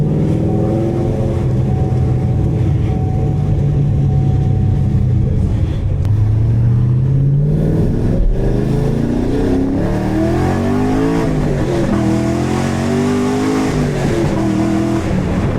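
Cammed fifth-generation Camaro Z28 engine revving while driving, a loud continuous rumble from inside the car that climbs and falls through gear changes, with a choppy lopey idle character.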